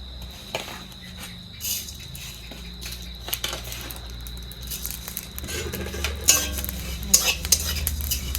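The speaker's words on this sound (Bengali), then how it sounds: "এখানে একসাথে আছে মেথি গোয়ামুড়ি তারপর গোটা ধনিয়া তো এগুলো আবার একটু ভেজে নেব কড়ার মধ্যে ছেড়ে দেবো" Dry fenugreek and whole coriander seeds being stirred and toasted in a wok, with a steady close scraping and rattling of the spoon against the metal and a faint crackle under it.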